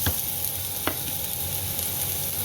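Chopped ginger and garlic frying in a pan for ginger chicken, a steady, close sizzle with a couple of brief stirring scrapes, no voices.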